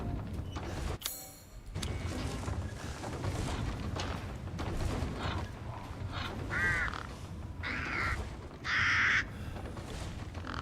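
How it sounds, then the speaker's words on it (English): A crow caws in the horror game Resident Evil Village, with several harsh, croaking calls toward the end, the last one loud and close, over a dark ambient game backdrop. "Unless it was just a crow pretending. It was. Crows make funny sounds."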